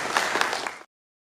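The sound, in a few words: audience applause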